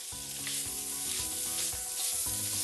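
Vegetables and onion sizzle and fry steadily in a hot pan while shrimp noodles are cooked, a continuous close crackle with no talk and faint stirring scrapes.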